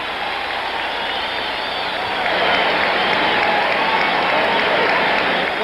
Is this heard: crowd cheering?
yes